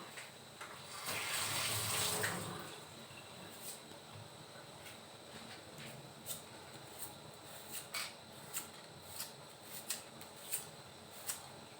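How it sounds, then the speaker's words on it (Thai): Tap water gushes briefly into a sink while peeled shallots are washed, followed by quieter scattered splashes and clatters close by, no talk. "ปอกแล้วก็ล้างซะก่อน"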